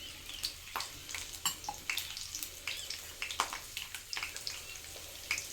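Garlic and ginger fry in hot oil in a pan, a close, steady crackle of sharp pops and sizzles spread irregularly throughout, with no one talking.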